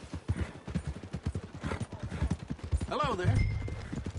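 Horse hooves clip-clop in a steady rhythm on a path in Red Dead Redemption 2, near and clear, while someone speaks briefly over them and a horse snorts near the end.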